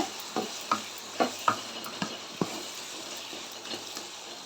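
Sliced eggplant sautéing in a pan while being stirred, a quiet steady sizzle broken by several sharp scrapes and taps of the spoon, close and fairly soft, with no voices.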